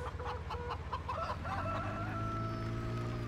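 Chickens cluck in a busy cluster and a rooster crows with a long drawn-out call in a Farming Simulator 17 farmyard, close and fairly loud with no voices over them.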